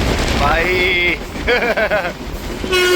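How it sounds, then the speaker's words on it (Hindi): A Konkan Railway train on the Mumbai to Goa line rolls along with steady running noise, broken by shrill tonal squeals and whistle-like tones that rise and fall over the rumble. "ये चल रही है अपनी ट्रेन"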